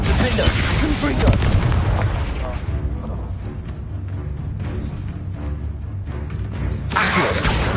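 Spell explosions in the game Hogwarts Legacy, a dense ongoing roar of booming blasts and bursts running nearly continuously, loudest at the start and end, with spoken incantations layered over the action.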